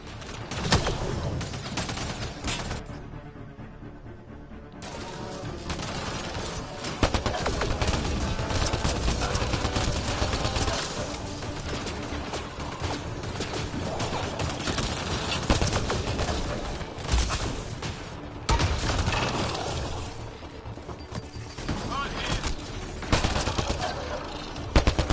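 Sustained gunfire from Mass Effect: Andromeda during a chaotic fight, with rapid shots and overlapping bursts that stay loud and dense for the whole stretch, mixed with game effects and shouting voices.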